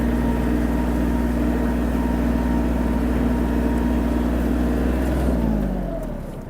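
A Kubota GL-260 Japanese mini tractor's diesel engine drones loud and steady up close while driving, holding an even pitch before easing off and fading slightly at the end.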